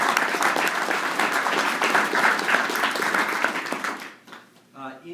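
Dense, loud audience applause at a Libertarian Party state gathering in Virginia for a speaker rolls on evenly for about four seconds, then fades quickly as a voice begins speaking.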